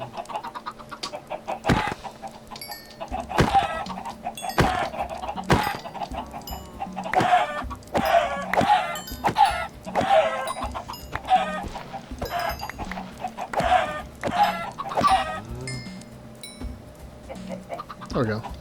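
Minecraft chickens cluck repeatedly in a steady stream of short, bright calls, with sharp click-like game effects scattered throughout and a low background hum.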